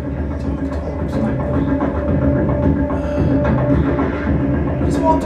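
A freight train with its locomotive rolls along the rails with a steady low rumble and faint clanking, loud and continuous throughout, with a high tonal whine over the top.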